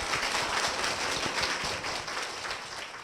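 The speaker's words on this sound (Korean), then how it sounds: "박수 부탁드립니다." Dense, steady applause fills a church congregation, many hands clapping together at an even level for the whole stretch, with no voices rising above it.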